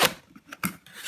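A packaged crafting product is opened up close, giving short bursts of scraping, rustling and snipping, as if from scissors, with quiet gaps in between.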